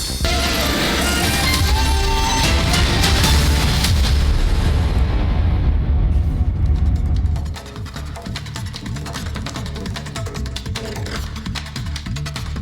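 Bombardment explosions in Rafah, Gaza, heard as heavy rumbling booms and crashing blasts in a loud, sustained barrage that eases after several seconds into a lower, rougher rumble with scattered impacts.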